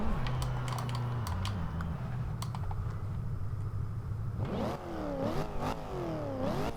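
Supercharged engine of a 2014 Chevrolet SS in the Forza Horizon 2 video game, droning steadily and then revving through rising pitch sweeps as RPMs climb, over loud keyboard typing clicks.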